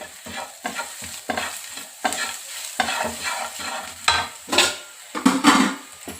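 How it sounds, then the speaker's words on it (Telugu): Soaked mung bean sprouts are stir-fried with chopped garlic in a pan, with repeated scraping strokes of a spatula in an uneven rhythm over a close, steady sizzle. "మనం నానబెట్టుకున్న స్ప్రౌట్స్ అంటారు, మొలకలు అంటారు కదా, ఇవి 1 నిమిషము ఫ్రై."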